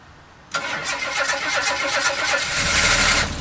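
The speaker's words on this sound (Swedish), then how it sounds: "Ska vi våga oss på en provstart?" Jaguar XJ6 engine test start: a brief starter crank catches and the engine fires into a loud, uneven, rapidly pulsing run close by, with no talk.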